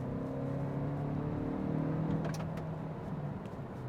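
A 2022 Kia Sportage T-GDI GT Line accelerates from a cruise, its engine note a steady, moderately loud hum rising slightly in pitch, heard from inside the cabin with no talking.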